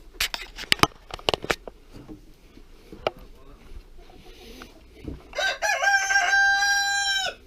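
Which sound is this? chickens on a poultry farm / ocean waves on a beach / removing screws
chickens on a poultry farm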